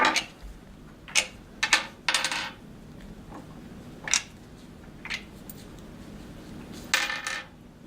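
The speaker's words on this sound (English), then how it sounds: "Go ahead and collect your screws." Small metal screws from a Jabsco manual marine toilet pump clink and rattle as they are gathered up by hand, several bright separate clicks spread over a few seconds at close range.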